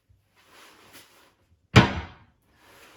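A heavy solid wood kitchen cupboard door fitted with a soft close damper shuts with one loud, close thud that fades quickly, followed by quiet shuffling.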